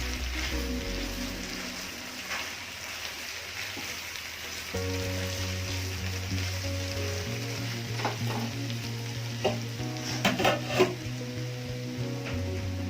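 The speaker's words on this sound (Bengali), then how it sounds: "ভেজে রাখা আলুগুলো দিয়ে দেবো এবার। আলুগুলো ভালোভাবে নেড়ে" Previously fried potatoes being stirred in oil in a pan for a potato and Bombay duck fish dish, with soft sizzling and repeated scraping strokes of a spatula over a low background hum.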